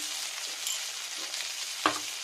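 Mustard oil frying in a pan for an egg, aubergine, potato and tomato curry, a close, steady sizzle with a brief stirring clatter near the end and no voices.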